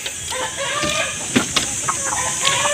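Chickens cluck near their new nest while laying eggs, a busy overlapping chorus of close clucks and short calls over a steady background hiss.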